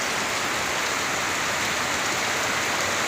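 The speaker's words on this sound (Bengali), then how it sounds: "কারণ বাইরে হইতেছে বৃষ্টি" Steady rain falls outside on the eve of Eid, a dense, even hiss of drops with no breaks, heard alone.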